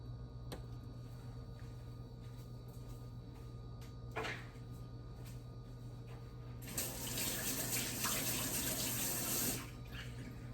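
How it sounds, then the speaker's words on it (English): Water runs from a kitchen tap in a steady broadband rush for about three seconds, after a few faint clicks and knocks, while adding water to a blender for a smoothie of frozen fruit and a date. "So I'm just going to add water."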